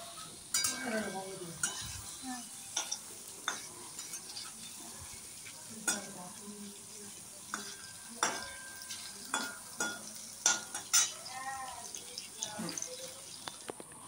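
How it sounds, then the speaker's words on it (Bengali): Chicken sausages fry in a pan, a low steady sizzle broken by frequent sharp clinks and scrapes of a utensil turning them against the metal, close by and moderately loud. "সুন্দর করে এপিট ওপিট লাল করে ভেজে নিলেই আমাদের চিকেন সসেস রেডি।"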